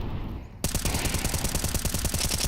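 Rapid automatic gunfire in a Counter-Strike match at BLAST Premier Fall Showdown 2024, a loud, dense burst of evenly spaced shots starting abruptly after a brief quieter moment and continuing to the end, with no talk over it.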